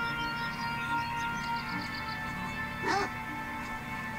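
A dog barks from behind a fence in the video game Beyond Eyes: one brief, faint bark near the end over a steady, tonal game soundscape.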